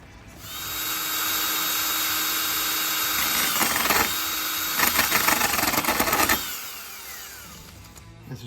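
A drill press whirs up and runs steadily, then bites into wood with a rougher grinding before spinning down; loud and close.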